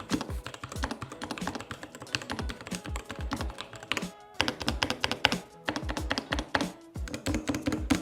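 Rapid typing on a compact 40% mechanical gaming keyboard with a tiny space bar, dense clacky keystrokes in fast bursts, close and clear, with a short pause near the middle and no talking.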